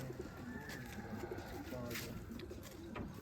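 Sialkoti pure-breed pigeons coo in a low, steady murmur from close by on a rooftop loft, with a continuous soft background of other birds.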